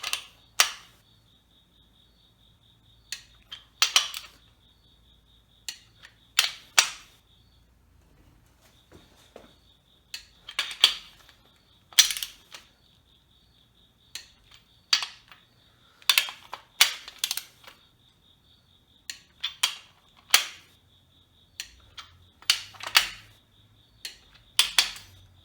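Torque wrench tightening crankshaft main bearing bolts while an engine is built, giving a series of sharp, separate clicks at uneven intervals, close by and fairly loud, with a faint steady hum underneath and no talking.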